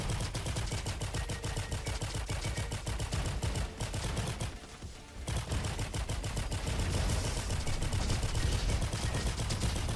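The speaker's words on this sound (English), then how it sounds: "Little turrets everywhere." Rapid, continuous gunfire from small turrets in a video game, a dense rattling stream of shots that runs nearly the whole time, briefly dropping out for a moment midway before resuming just as loud.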